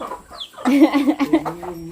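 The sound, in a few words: ducks quacking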